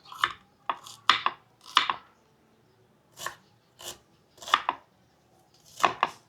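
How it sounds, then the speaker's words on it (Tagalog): A knife chops onion on a board for pork dinuguan: seven or eight crisp, close strikes in uneven pairs and singles, with short pauses between them and no voices. "Hiwa na po tayo ng mga rekado para sa ating dinuguang pork."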